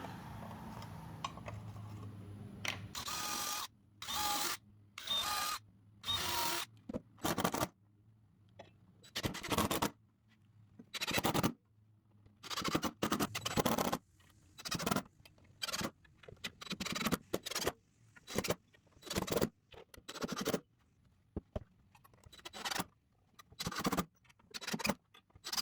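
Screws being driven into pre-drilled holes to fix legs onto a refinished wooden table top, heard as a series of short, loud bursts of power-drill whirring with brief pauses between them, close by and with no talk.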